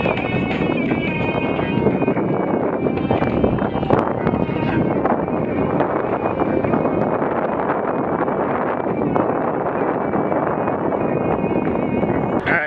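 Steady wind rushing across the microphone while riding a Rad Power RadWagon electric cargo bike outdoors, a loud continuous buffeting roar with no breaks.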